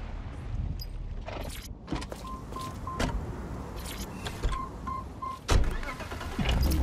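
Synthetic car sounds in the video game Watch Dogs Legion: doors and thumps, a whirring motor, a short beeping tone twice, then an engine revving up near the end.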